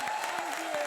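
Studio audience applause on a Comedy Circus comedy show stage, a steady dense wash of clapping running the whole second, with a sustained tone and a faint voice underneath.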